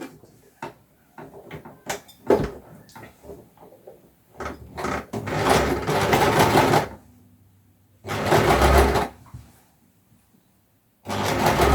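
A sewing machine stitches a pocket onto fabric in short bursts, with scattered clicks and handling knocks between runs, then two sustained whirring stretches of stitching, fairly close and clear.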